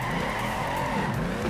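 Tires squeal steadily as a car drifts in the Torque Drift racing game on PC, a continuous skidding screech with engine roar, loud and close throughout with no talking.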